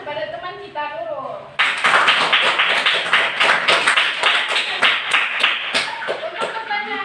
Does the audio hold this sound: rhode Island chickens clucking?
no